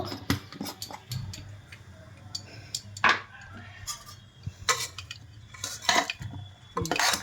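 Utensil scraping and clinking against a pan while fried rice is mixed, with irregular metallic taps and scrapes over a low background hum, close and moderately loud, no voices.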